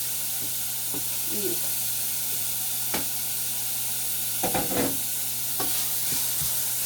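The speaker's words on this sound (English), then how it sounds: "So I'm just gonna let that just saute down a bit." Celery, ginger and garlic sauté in a pan, giving a soft, steady sizzle with a few sharp clinks and scrapes from stirring scattered through it.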